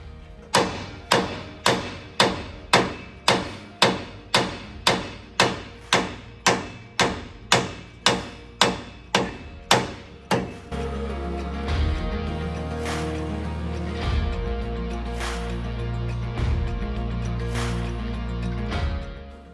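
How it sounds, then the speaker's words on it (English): A hammer strikes a Ford Raptor's tie rod about twenty times in a steady rhythm, each hit ringing sharply, then the blows stop and a low engine-like hum takes over. "my dad had to go get a hammer to get that tie rod off"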